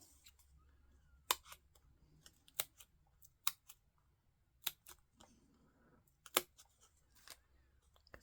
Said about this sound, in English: We're going to be cutting some of the sides